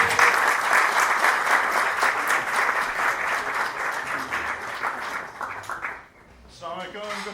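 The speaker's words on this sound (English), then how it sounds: "Round of applause." A crowd claps loudly and steadily, the dense applause slowly tapering off near the end.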